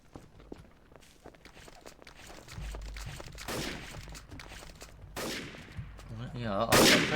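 Exchange of gunfire in a video game: scattered footsteps, then sharp shots and short bursts growing louder and closer toward the end, with some talking underneath.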